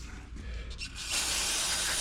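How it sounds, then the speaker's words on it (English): A close, broadband hiss of water spraying the outside of a Honda HRR216 push mower starts about a second in and continues steadily over a low background rumble. "Let me spray the outside of this thing out"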